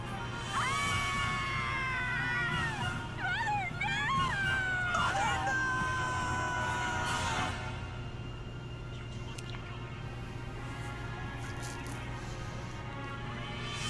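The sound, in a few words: scream in a Nintendo video game trailer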